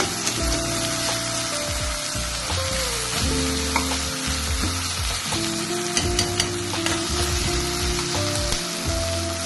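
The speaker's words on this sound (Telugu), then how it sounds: "బాగా టమాటా మగ్గాలి ఆయిల్లో." Tomatoes soften in hot oil for a black-eyed pea and potato curry, a continuous crackling sizzle with scattered pops, while a steady tonal backing sound plays underneath throughout.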